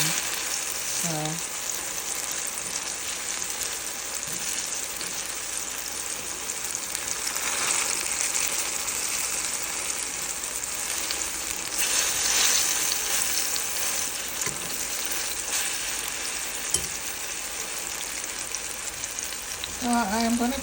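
Plantain frying in oil in a small pot on turned-down heat, a steady dense sizzle and bubbling hiss throughout, with a brief spoken word near the start and end.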